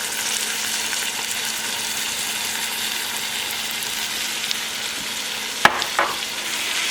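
Salmon and tomatoes fry in a pan with a continuous close sizzle and crackle, then a sharp knock or clatter near the end.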